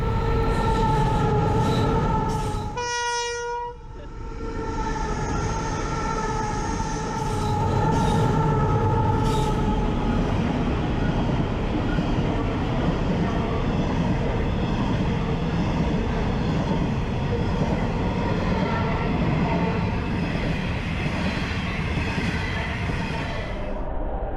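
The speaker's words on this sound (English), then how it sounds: "It's not just the end of the tunnel light, it's actually a train coming." A train thunders past at close range, a loud continuous rumble with metallic squealing tones, echoing as in an enclosed tunnel.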